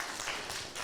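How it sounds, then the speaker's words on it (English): Audience applause at a VIP dinner event, a steady wash of many hands clapping at moderate distance, continuous and even throughout with no voices standing out. "give him a round of applause for that"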